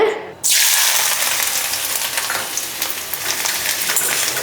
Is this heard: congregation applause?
no